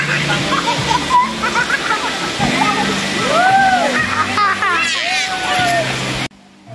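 Rushing, splashing river water at a swimming spot on Sibuyan Island, Romblon, steady and close throughout, with children's voices and chatter over it, cutting off abruptly near the end.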